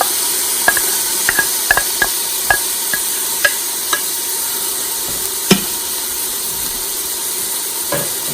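Onions and tomatoes cooking in a pan for a chana dal curry, giving a steady soft sizzle with scattered spoon clinks and scrapes over about eight seconds.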